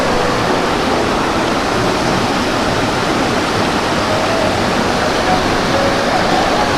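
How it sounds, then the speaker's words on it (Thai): Fast-flowing river water rushes steadily at Wang Takhrai park near a waterfall in Thailand, a loud, continuous broadband roar that fills the whole stretch without pause. "น้ำค่อนข้างที่จะเชี่ยวพอสมควรเลยครับ"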